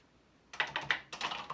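Keys pressed on a MiniPET computer keyboard, a quick run of crisp clicking keystrokes in an uneven rhythm, close and clear with no voices.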